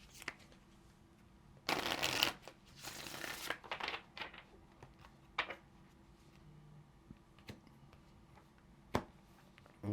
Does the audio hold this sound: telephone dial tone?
no